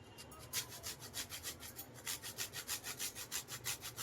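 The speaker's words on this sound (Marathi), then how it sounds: "जायफळ किसून घेऊया" Whole nutmeg is grated for a sweet pumpkin puri dough, giving a quick, even series of dry rasping strokes, about four per second and close up, with no talking.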